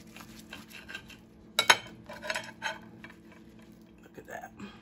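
A knife cuts through a turkey patty melt on a plate, giving scattered clinks and scrapes of cutlery against the dish, with one sharper clatter midway, close and moderately loud.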